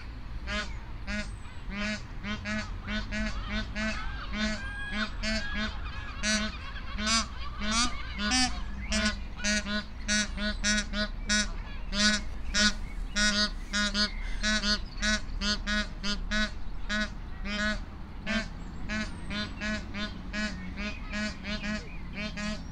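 A dense, continuous chorus of geese honking on water, many birds calling over one another in rapid overlapping bursts, fairly close, with a low steady rumble beneath.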